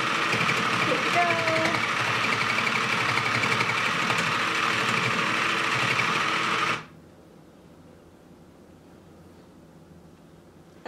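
A Spin Master Sew Cool toy sewing machine buzzes continuously at close range for several seconds, then stops abruptly, leaving near silence.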